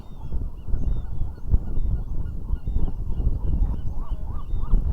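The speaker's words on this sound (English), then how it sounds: "All the bird life here on Alcatraz" Seabirds on Alcatraz island call in a steady, crowded chorus of honking and squawking over a rumbling outdoor background, with overlapping cries from many birds throughout and no talk.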